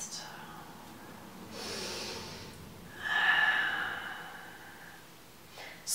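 A long, soft breath out through the nose during a seated yoga twist is heard close and airy, preceded by a fainter breath, in a quiet room.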